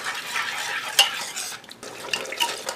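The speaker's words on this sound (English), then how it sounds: "Smash all the garlic pieces and onions with the spoon." A spoon stirs and mashes onion, garlic and masala sautéing in a pan for dhaba-style aloo gobi curry, with a soft sizzle under scraping and sharp metallic clinks of spoon against pan.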